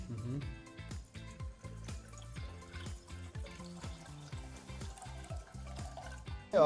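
Water poured into a pot set on a gas stove in a cookery show kitchen, a brief, faint liquid trickle heard under a man's speech and light background music.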